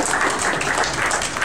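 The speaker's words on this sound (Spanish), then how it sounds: "agradecemos un aplauso ahí al secretario de CONAP" An audience at an Indigenous Mesoamerican pre-congress gives a brief round of applause for the CONAP secretary, a dense, even patter of many hands.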